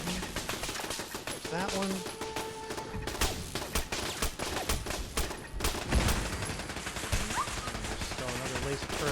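Laser turrets fire in rapid overlapping bursts during a Fallout 4 fight, loud and continuous amid other combat noise, with someone speaking briefly over the gunfire.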